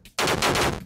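Projectile shots in the typing battle game Typefighters: a sudden loud burst of rapid, rattling gunfire-like shots in close succession, lasting most of a second before tapering off.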